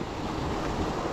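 Steady broadband rush of river water pouring beneath a wooden bridge near the Hethpool Linn waterfall, continuous and fairly loud with no breaks and no voices.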